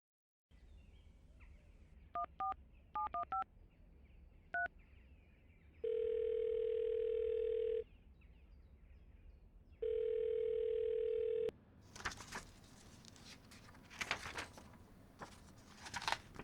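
Telephone being dialed: a few short keypad beeps, then two long steady dial-tone stretches separated by a pause, followed by busier background noise at the end.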